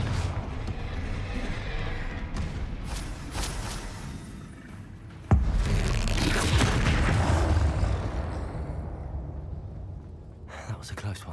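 A Confringo spell explosion in Hogwarts Legacy: a sudden sharp blast lands midway through busy combat noise, followed by a rumbling swell that fades, with a voice talking over the game sounds.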